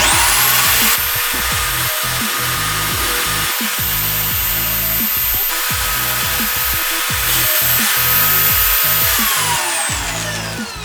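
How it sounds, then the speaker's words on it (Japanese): A HiKOKI electric drill mounted in a drill stand bores an 8 mm hole, its loud steady motor whine running throughout with rhythmic grinding chatter as the bit cuts, then spinning down at the end. "8mm の穴が開きました"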